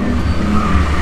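A car engine revs loudly and steadily at a theme park stunt show, a deep rumbling roar with rising intensity, close by and continuous without any talking.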